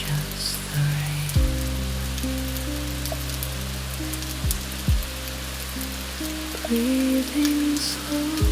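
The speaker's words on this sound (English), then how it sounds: "Just the rain." Steady rain falls on a surface in a soft, continuous patter that stays even throughout, with no voices.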